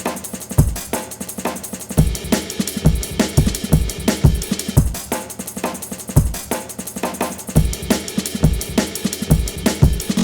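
Chopped drum breaks layered with a shaker loop for atmospheric drum and bass, punchy kicks and snares in a fast syncopated pattern over a steady hissing shaker, loud and alone.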